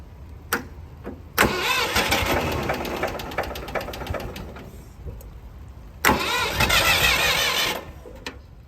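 A car engine cold-starting on a winter morning: a short crank, then a rough start with a steady running drone that dips and surges, followed by a second loud revving burst, close by and with no talk.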